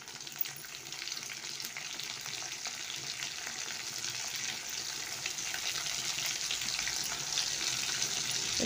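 Chopped onion and green chillies sizzle in hot oil in a pan, a steady close crackling hiss that holds evenly throughout without pause.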